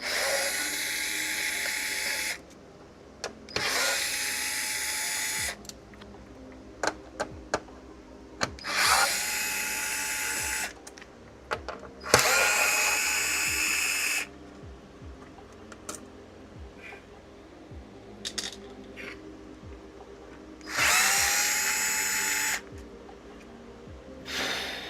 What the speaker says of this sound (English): I've got to take all the silver screws out next.